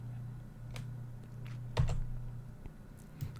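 Keys tapping on a computer keyboard while someone codes in Java, soft and sparse with a few scattered clicks and one slightly firmer press, over a steady low hum.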